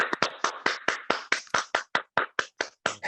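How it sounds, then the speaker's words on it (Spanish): Attendees of a virtual meeting clapping through open microphones, a run of about fifteen sharp, distinct claps in a fairly even rhythm, close and dry, with no talk over them. "le voy a pedir a todos los asistentes que abran sus micrófonos para dar un aplauso al maestro."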